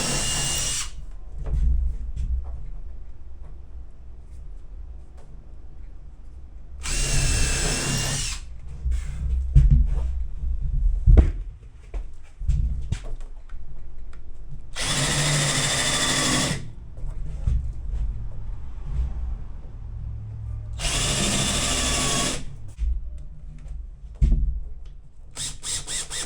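A power drill countersinks and drives screws into the ceiling panel of a 6x10 cargo trailer conversion, with four loud whirring bursts of a few seconds each separated by quieter handling noise.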